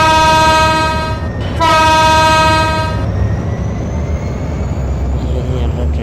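The Barendra Express sounds a long, loud horn in two blasts over the heavy rumble of the moving train, then keeps rolling along with steady track noise.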